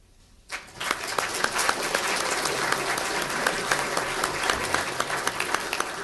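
A crowd's applause at a North Charleston swearing-in ceremony, starting abruptly after a brief quiet moment and holding as a dense, even wash of clapping to the end.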